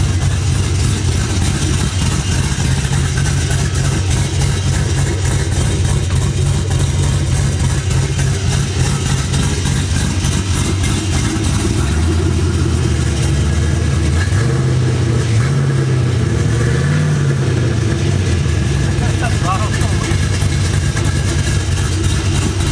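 LS V8-swapped mini truck engine running steadily at close range, a deep continuous low rumble with a few brief revs near the end, with no talk.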